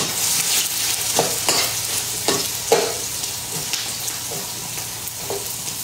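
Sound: onion sizzling in pan

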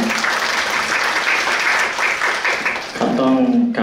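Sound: audience applause at a ceremony

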